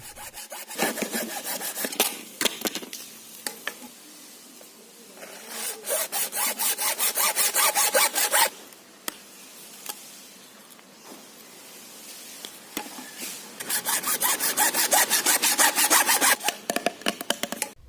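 A hand saw cuts PVC pipe to length for a homemade grass cutter, steady rasping back-and-forth strokes in several bursts separated by short pauses, close and loud with no talking.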